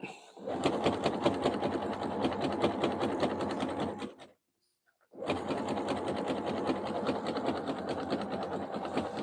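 A sewing machine runs steadily, stitching fabric strips in a long continuous burst, stops briefly for about a second, then starts again at the same even, close, loud rate.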